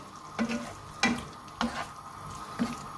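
Masala kaleji, spiced liver, frying in a pan as chopped green chilies are stirred in, with steady sizzling broken by four scraping stirs at a slow, even rhythm, close by and without talk.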